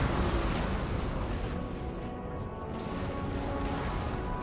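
Six-pounder cannon fire in a Napoleonic-era battle from a strategy game, heard as a dense, sustained rumble of booming artillery and battlefield noise with no clear individual shots standing out.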